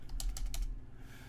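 A computer keyboard being typed on, a few quick clicking keystrokes in a short burst, then quiet room tone; faint and close with no talking.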